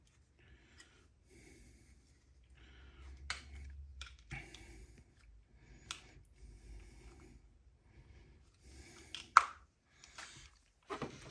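Clear plastic parts popped off a Transformers Legacy United Wheeljack figure. Quiet creaks and rustling lead to a few sharp, isolated snapping clicks, with breathing faint in the background.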